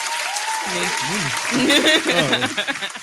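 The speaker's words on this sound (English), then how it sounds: "Please clap that up for me." Clapping from a few people in a podcast studio rattles under lively overlapping talk and chuckles, rising slightly toward the middle before tapering off.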